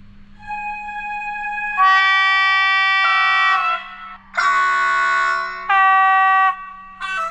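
Shrill, steady model locomotive horns sound one after another, each a sustained multi-tone chord with brief pauses between, loud and close with no talking.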